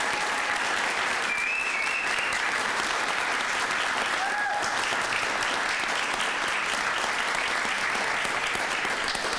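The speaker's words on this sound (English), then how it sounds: "So ladies and gentlemen, round of applause for all of our participants." Sustained audience applause at a VFW Post 6053 award ceremony honoring Voice of Democracy and Patriot's Pen participants, a dense, steady wash of many hands clapping throughout, loud and continuous with faint voices mixed in.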